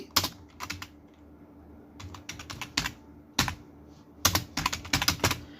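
A computer keyboard typing in text while filling in a form, heard as bursts of rapid, close key clicks with short pauses between words, with no talking.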